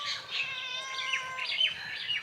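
A cat meows in a few short, thin calls close to the microphone, fairly soft, with no talking over it.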